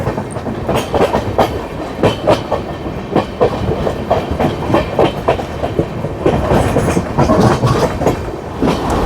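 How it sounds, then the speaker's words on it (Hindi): Magadh Express train rolling past close by, a steady loud rumble broken by repeated rhythmic clickety-clack bursts from its wheels on the rails, continuing throughout without speech. "ये मगध एक्सप्रेस है"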